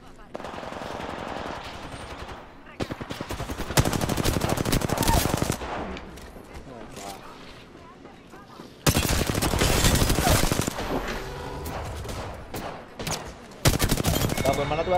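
Sustained automatic weapon fire in the video game Apex Legends comes in long, dense bursts with short pauses between them. The shots are loud and close, with rapid repeated reports, and voices are partly buried under the gunfire.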